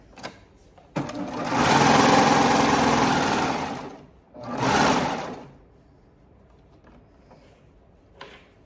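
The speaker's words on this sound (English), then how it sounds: "I'm gonna move my whole garment all the way out from underneath the needle so that I can serge off here" A serger sewing machine finishing a seam on leggings runs in two loud bursts, a long steady whir and then a shorter one, close up, with quiet pauses around them.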